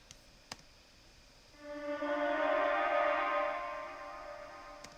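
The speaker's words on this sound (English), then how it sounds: "I then added this pad that rose." A synth pad in a beat swells up from quiet, rising and sustaining with a bright harmonic tone washed in reverb and delay, then slowly fading, alone without voices.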